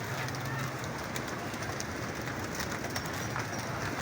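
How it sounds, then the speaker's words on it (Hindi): A large flock of pigeons gathered at feeding time on a Lahore bird rooftop, giving a steady, dense murmur of cooing and rustling that stays constant throughout with no pauses. "ढेर लगा हुआ कबूतरों का और दाने का टाइम हो गया।"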